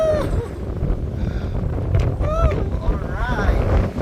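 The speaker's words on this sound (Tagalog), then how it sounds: "Grabe, lakas ng hangin." Strong wind roars and buffets the microphone throughout on Mount Olis in Atok, Benguet, with a person talking over the gusts.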